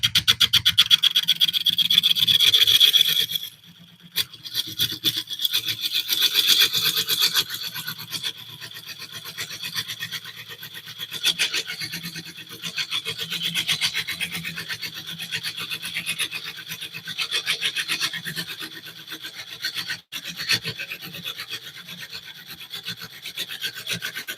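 Oak burl bowl blank spinning on a wood lathe while a tool cuts into it, a harsh close rasping scrape that runs steadily, stops briefly, then resumes in pulsing strokes, with no talking.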